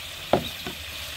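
Onion and garlic being stirred in a hot pan with spices, a quick scrape of the spatula followed by a softer second stir over a faint background sizzle.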